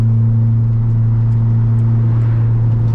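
A 90s Honda Accord with an H22 engine, used as a drift car, running close and loud, its low engine note holding a steady hum over road rumble while it pulls along.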